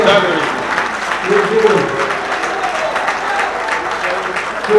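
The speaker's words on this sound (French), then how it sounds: "Veuillez l'applaudir." An audience at a political party gathering applauds with a dense, continuous clapping wash, while voices carry faintly over the crowd.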